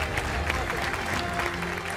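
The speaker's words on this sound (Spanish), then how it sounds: "Poné, por favor, el aplauso para Alejandra." Recorded applause sound effect played on a television game show, a continuous, even roar of clapping crowd filling the whole moment at steady loudness.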